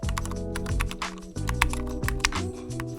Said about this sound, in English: Type in some relevant keywords,